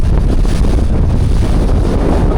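Strong wind at sea roars against the microphone in a loud, unbroken buffeting rush, with a low churning undertone like water or a moving boat.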